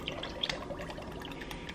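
Spicy V8 juice poured into a pot of chili, a soft continuous liquid pour with faint drips and splashes, close and steady over a couple of seconds.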